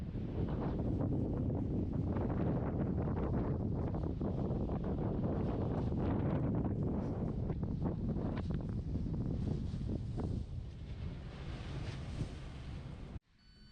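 Strong wind buffets the microphone at the stern of a ferry crossing the Irish Sea from Dublin to Holyhead, a loud continuous rumble with the wash of water beneath, easing slightly near the end.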